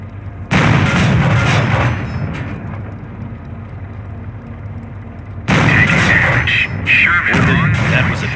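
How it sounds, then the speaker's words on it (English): Sherman tank cannon shell striking a Panzer in the WWII strategy game Company of Heroes: two loud booming impacts a few seconds apart, each with a heavy rumbling tail, over steady battlefield noise. "That was a direct hit, but it did little damage because of the Panzer's heavy armor."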